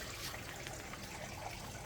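Creek water trickles steadily over mossy banks lined with worm castings, a soft continuous wash close by with no voices.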